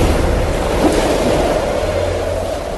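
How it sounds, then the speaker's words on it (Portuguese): Sound effect of strong wind and waves, a loud steady rush of surging water and blowing wind with no voices. "De repente, um vento forte começou a soprar e a levantar as ondas."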